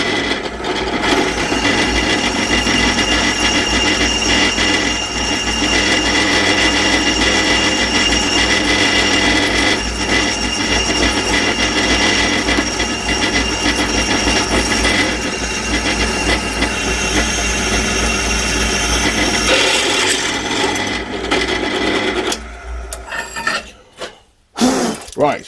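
A countersink bit run by a power drill deburrs freshly drilled holes in metal for an engine stand, a loud continuous grinding whine lasting about twenty seconds before cutting out into a few scattered knocks.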